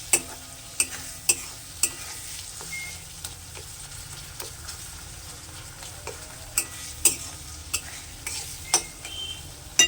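A spice paste stir-fried in a pan for a fish curry, a low bubbling sizzle punctuated by a regular series of sharp metallic scrapes and taps from the stirring spoon, no talk.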